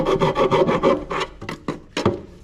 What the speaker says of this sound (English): I'll just get a round file and clean that out.